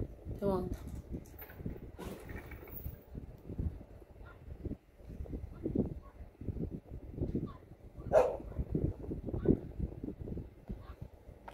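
Dogs barking in the distance: scattered, faint barks and yips come in irregular bursts under steady speech, with a louder bark near the end.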